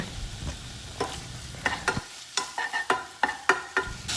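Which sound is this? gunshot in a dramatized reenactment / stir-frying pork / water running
stir-frying pork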